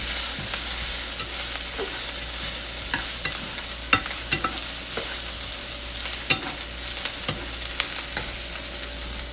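Corn frying in a pan with onions sizzles loudly and steadily up close, while a utensil stirs it with intermittent scrapes and clicks.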